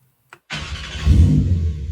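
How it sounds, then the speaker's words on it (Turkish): A Porsche 911 engine starts in the Euro Truck Simulator 2 game, with a brief click, then an abrupt crank that catches into a loud, rising rev before settling to a steady idle, close and with no talk. "Aracı bir çalıştıralım."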